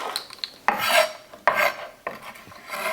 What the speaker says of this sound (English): I'll take the pieces like this and I'm just gonna chop them up again.